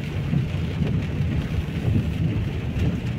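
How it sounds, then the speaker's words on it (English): Heavy rain pours steadily in Lewsey Farm, Luton, UK, as a dense, constant wash of noise with low rumbling thunder rolling beneath it. "I'm just videoing my way to show you the rain that we're getting"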